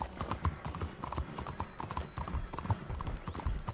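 Horse hooves clip-clop in a steady, close rhythm in Red Dead Redemption 2, with a loud, continuous run of hoof strikes lasting the whole stretch.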